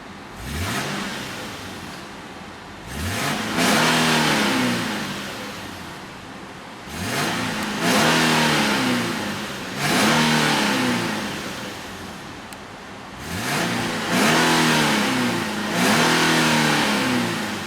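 A 2011 Infiniti FX37 engine revs repeatedly while parked, each throttle blip rising sharply and falling back to idle, roughly six or seven close, loud rev cycles spaced evenly with no talking.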